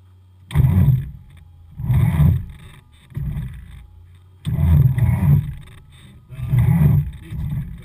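A Citabria 7GCAA light aircraft engine cranking over on its starter: about six low, rumbling surges, each lasting around a second, separated by brief quiet gaps.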